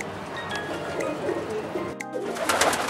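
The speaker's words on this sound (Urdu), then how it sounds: "یہ ہے کبوتر، تھوڑے سے کبوتر ہیں جی" Pigeons coo softly nearby in Sialkot, Pakistan, low throaty calls repeating against a quiet background with a few faint chirps.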